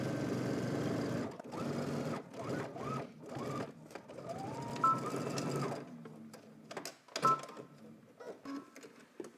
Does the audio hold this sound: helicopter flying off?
no